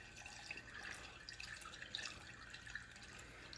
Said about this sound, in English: I'll just pour it real slow like.